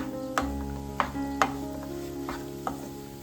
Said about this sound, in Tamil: மரவள்ளி கிழங்க போட்டுட்டு நல்லா கலந்து விட்டுக்கோங்க